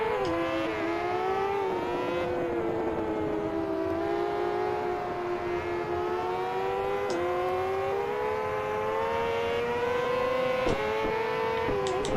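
High-revving BMW racing motorcycle engine in the GP Bikes video game, a continuous loud whine rising and falling in pitch with gear changes throughout, close and dominant with no talk.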